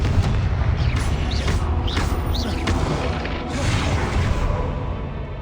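Explosive Confringo spell blasts in the video game Hogwarts Legacy, a dense run of booming, crackling bursts with whooshes layered over continuous loud rumble, filling the whole stretch with no pause.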